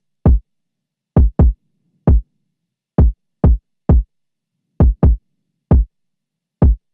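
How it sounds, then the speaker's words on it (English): An 808 trap kick drum sample fires eleven punchy, booming hits in an uneven pattern, some in quick pairs, each a short deep thump with a fast attack and silence between, loud and isolated. "First we have the kick, which sounds like this."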